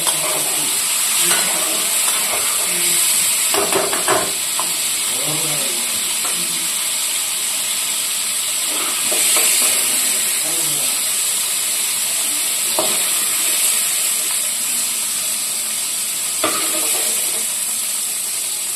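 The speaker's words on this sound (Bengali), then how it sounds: "তো পনির বেশি ভাজুন না, আমি একটু কমই ভাজি পনিরটা, নাহলে শক্ত হয়ে যাবে।" Paneer fries in a pan with a steady, close sizzling hiss, broken by scraping stirs and soft clinks of a spatula against the metal.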